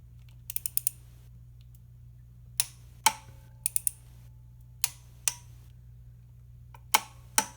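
Torque wrench tightening an upper intake bolt on a 2004–2009 vehicle to 18.5 foot-pounds, heard as sharp isolated ratchet clicks in short bursts and single snaps spread across the span, close by over a low steady hum.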